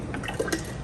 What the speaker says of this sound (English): she's gonna ladle out some of the water, and we're gonna put it into this bigger jar